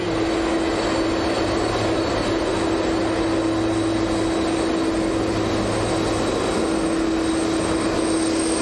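An airliner at Manchester Airport gives a loud, steady, broadband engine roar with a constant whining tone that fills the whole clip without a break.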